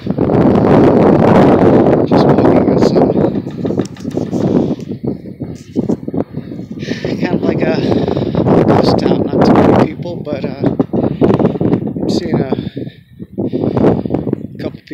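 Strong wind buffets the microphone outdoors on a sunny day, rumbling loudly and gusting throughout, with a person talking over it.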